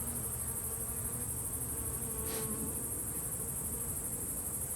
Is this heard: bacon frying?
no